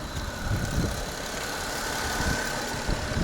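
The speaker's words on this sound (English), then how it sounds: "the engine is running" A Peugeot 407 V6 under repair idles with a steady, low, even engine hum and a faint whirr, running alone with no talk.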